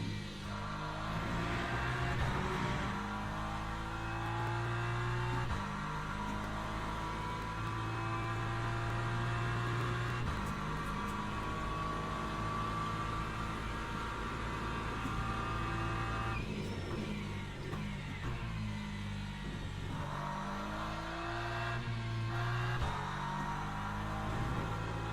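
A BMW race car engine in the video game Project Motor Racing drones steadily through a lap, with sustained harmonic whine, gear shifts and pitch climbs and drops, close and continuous with no talk.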